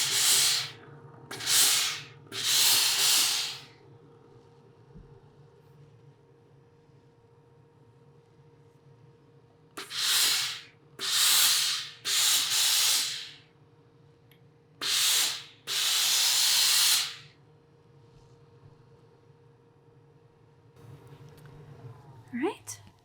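Steam iron pressing a sewn dart on fabric, giving several separate loud hissing bursts of steam, each lasting about a second, spread through the stretch with quiet pauses in between.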